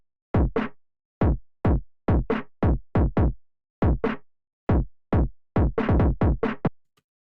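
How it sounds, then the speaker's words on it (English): A synth melody with fuzz distortion and the bass and treble turned down plays in short, clipped, gritty notes with gaps between them, loud and alone. "and then I added fuzz to give it this sound."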